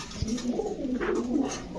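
Domestic pigeons of Pakistani high-flyer breeds coo steadily and softly up close, a low rolling call repeated without pause and with no other voices.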